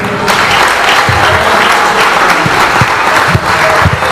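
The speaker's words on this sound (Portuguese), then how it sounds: "Aplaudam ao Senhor." Church congregation applauding at a theology symposium, a steady dense wash of clapping from many hands filling the room, loud and continuous throughout.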